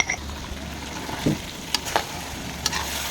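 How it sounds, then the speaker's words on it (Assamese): Goat mutton with garlic frying in a pan in a small home kitchen, a faint steady sizzle with a few sharp clinks of a utensil stirring against the metal. "10-15 মিনিট সুন্দৰকৈ ভাজি দিছোঁ। ছাগলী মাংস সিজোতে বহুত টাইম লাগে"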